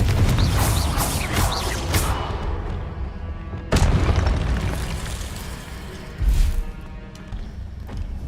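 Confringo fire-blast spell exploding in the video game Hogwarts Legacy, loud booming bursts with rumbling decay, one at the start and another strong blast midway, then a softer thump.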